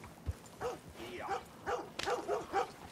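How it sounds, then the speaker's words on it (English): Dogs in the video game Red Dead Redemption 2 let out a quick series of short yips and barks, fairly close and moderately loud, with a faint thump before them. "Man, there's two dogs. Are they chasing each other playing?"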